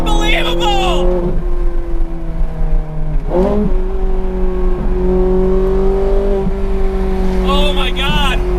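Ferrari F430 Scuderia with a 6-speed manual revving hard while driven, a loud steady engine drone rising and falling in pitch through gear changes, with people talking and exclaiming over it.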